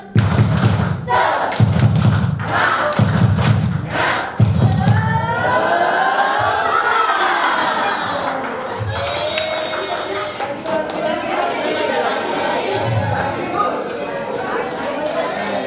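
A group of teachers performs the tepuk semangat clap, loud rhythmic rounds of thumping claps in bursts, followed by cheering, chatter and a few scattered claps later on.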